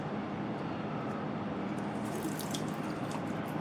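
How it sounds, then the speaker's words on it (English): Tap water runs steadily into a rubber balloon for a classroom science experiment, producing a continuous close, hissing splash with no pauses. "Put some water in one balloon."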